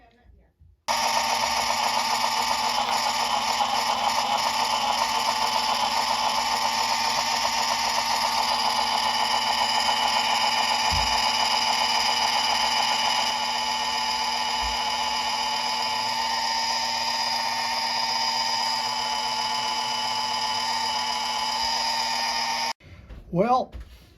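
A Manson miniature lathe cutting a 1/8 inch brass filler rod, a steady close whirring hum with bright tonal whine running continuously for about twenty seconds before stopping abruptly.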